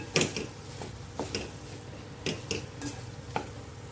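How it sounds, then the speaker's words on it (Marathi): Potato bhaji with coriander being mixed in a pan: a spoon scrapes and taps against the metal in a handful of irregular strokes, fairly quiet and close, over a low steady background with no talking. "कोथिंबीर टाकून छान मिक्स करून घ्यायचे"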